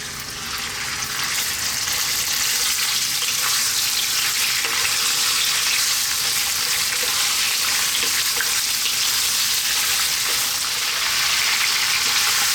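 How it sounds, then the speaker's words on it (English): Pieces of goat meat fry in hot oil for a curry, with a steady, dense sizzle and crackle that stays loud and continuous throughout, with no talking. "we're going to go just frying the meat for about 6 minutes"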